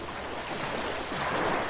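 Ocean waves wash in a steady, soft broadband rush that swells slightly toward the end, continuous and unbroken, with no voices present.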